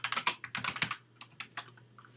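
Fast keystrokes on a computer keyboard while text is entered on a website builder: a dense close burst of clicks, then a sparser run of taps.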